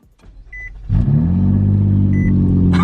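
A McLaren SV engine cranks briefly and fires into a loud, deep idle rumble that settles and holds steady, close by and alone.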